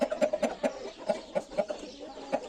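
A young rooster that has only just started crowing gives short, rhythmic clucks, close up and repeated steadily throughout.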